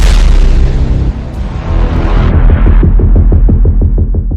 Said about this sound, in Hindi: यह हमला एक झटके में 55 रॉकेट धमाके का है।